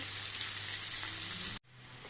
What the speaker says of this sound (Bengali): এবার আমি কড়াইতে পেঁয়াজটা ভেজে নিচ্ছি নুন হলুদ দিয়ে